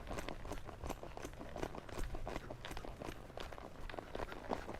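A horse ridden while working cattle, its hooves thudding in a quick, steady rhythm close by over a dull background.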